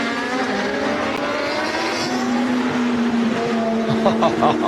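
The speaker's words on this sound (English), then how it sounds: "A bit of supersport racing going on with some GP2s in the mix." Supersport motorcycles racing at Cadwell Park, with GP2 machines in the mix, engines droning steadily at high revs with rising and shifting pitch, loud and continuous, a faint voice underneath.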